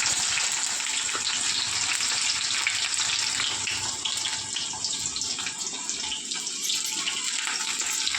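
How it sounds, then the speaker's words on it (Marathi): Chopped onion fries in lightly heated oil on a gas stove for homemade poha, giving a steady, close, dense sizzling hiss that continues without a break and fades a little near the end. "पहिलं कांदा टाकायचा, तेल गरम झाले थोडंफार, चांगलं करायचं."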